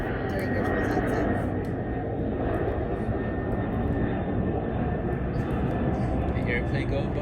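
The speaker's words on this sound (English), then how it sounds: "Airplane go by." An airplane passes overhead outdoors, a steady, moderately loud engine roar spread across the whole stretch, with people talking over it.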